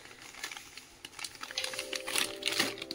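Semolina (suji) is dry-roasted in a kadai, with rapid light scraping and ticking as it is stirred, growing busier and louder toward the end, close up with no talk.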